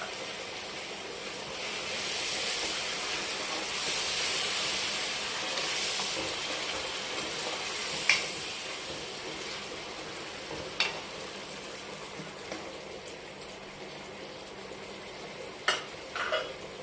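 Tomato paste goes into a hot pan for a chicken curry and fries with a continuous hissing sizzle, swelling early then easing, with a few sharp clinks of a spoon against the pan and no talking.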